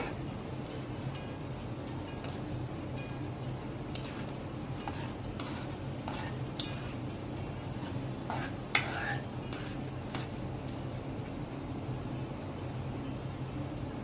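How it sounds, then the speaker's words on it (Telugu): A bay leaf drops into hot oil in a pan for a curry, giving a low, steady sizzle with scattered light scrapes and clinks of a utensil against the pan. "ఆయిల్ హీట్ ఎక్కింది అందులో నేను ముందుగా బిర్యానీ ఆకు వేసుకుంటున్నానండి"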